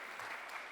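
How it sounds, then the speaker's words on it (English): Conference audience applauding, a dense wash of clapping hands filling the room steadily and evenly for under a second with no break. "give a round of applause for yourself for disagreeing"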